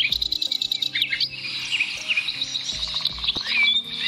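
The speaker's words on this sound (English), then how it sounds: "You have birds on your strings." Birds chirping and tweeting in quick bright calls, played as a sound-guessing game with a faint insect-like trill, steady and close throughout with no talking.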